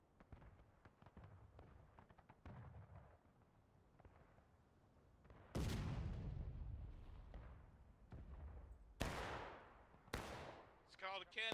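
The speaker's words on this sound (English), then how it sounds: "It's called a cannon, lad." Cannon fire booms in War of Rights, a Civil War battle game on the Bolivar Heights Redoubt map, with three loud, close blasts after scattered distant rifle shots; players talk over the battle.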